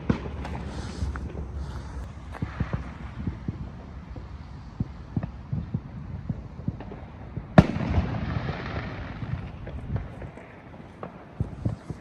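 Bonfire night fireworks burst outdoors in Airdrie, a run of irregular cracks and pops, mostly distant, over wind rumble, with one sharper louder bang midway.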